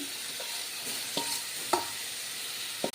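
Fried eggplant pieces sizzle in a pan with ground green chili, ginger, cumin, coriander, turmeric and salt, steady frying hiss broken by a few sharp scrapes and knocks of a spatula stirring.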